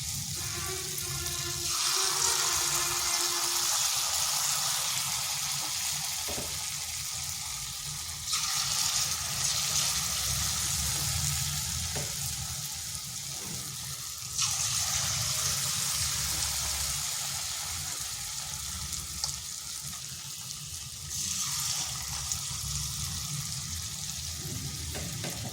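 A suji and yogurt snack fries in hot oil in a kadai over medium heat, giving a continuous bubbling sizzle. The sizzle swells in louder waves every few seconds.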